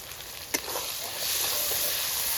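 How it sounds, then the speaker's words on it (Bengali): Ginger-garlic paste frying with onions already browned in a pan, for Bengali-style steamed chicken: a soft crackling hiss with one quick tap early on, swelling into a louder, steady sizzle. "পেঁয়াজের সঙ্গে সঙ্গে আদা রসুনটাও ভাজা হয়ে"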